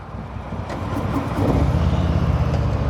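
A 2023 Harley-Davidson Fat Boy 114 motorcycle engine rumbling close by, a low throbbing idle that swells louder as it revs up partway through.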